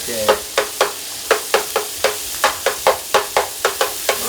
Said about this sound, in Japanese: よーく炒めてください。 ひき肉をね、豚ひき肉でいいです。